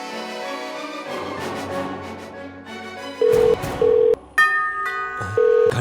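Phone dialing with a string of steady keypad tones in short bursts, a couple of beeps mixed over a low background murmur.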